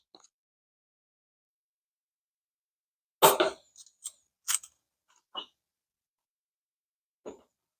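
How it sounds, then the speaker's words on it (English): A steel bandsaw blade folded by hand into coils, a few sharp metallic snaps and rattles clustered midway, then an isolated clink, with near silence around them. "So hold your bandsaw blade, bring it in U shape, tilt it in, and it is done."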